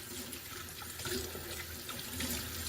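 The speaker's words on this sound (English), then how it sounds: "You go to your sink, wipe off whatever's on your hands with water." Running tap water streams steadily over hands being rinsed at a kitchen sink while preparing chicken, a continuous close splashing hiss with no talking.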